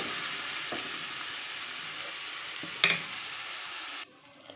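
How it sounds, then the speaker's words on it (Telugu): Sliced onions sizzle steadily in a hot pan for a curry, a dense continuous frying hiss with a couple of faint stirring knocks, cutting off abruptly near the end. "ఇప్పుడు ఆనియన్స్ కొంచెం ఫ్రై అవ్వాలి"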